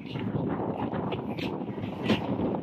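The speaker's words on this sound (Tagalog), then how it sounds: "sa sobrang lakas ng hangin" Steady, rushing wind buffets the microphone throughout, a continuous roar with gusty swells and no voices.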